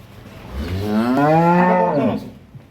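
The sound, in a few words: cow and calf mooing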